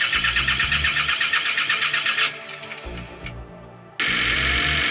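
A boat's diesel engine cranks with rapid rhythmic starter pulses, falters briefly, then catches and settles into a loud steady idle, heard close and alone.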